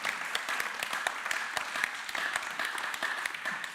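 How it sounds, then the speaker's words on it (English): A standing audience at a DevOps conference claps hard for a speaker, dense continuous applause with crisp individual claps, loud and sustained without letting up. "Please clap at your loudest."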